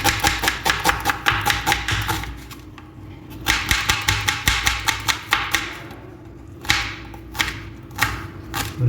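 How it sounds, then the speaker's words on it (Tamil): A knife chops onion finely on a board in a home kitchen, with quick, evenly spaced close taps in several bursts separated by brief pauses. "நல்லா சின்னதாக வெட்டிக்குங்க, அப்போ தான் உங்களுக்கு சீக்கிரம் வெந்துடும்"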